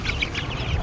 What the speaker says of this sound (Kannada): ಹೌದು, ಇವು ನಾಟಿ ಕೋಳಿ.